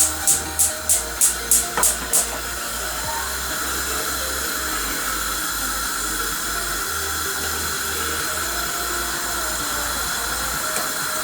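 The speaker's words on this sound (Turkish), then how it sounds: "Bunu hemen bir kavurayım." A steady sizzling hiss of shredded kadayif dough roasting in a pan, preceded by a quick run of about seven sharp clicks at the start.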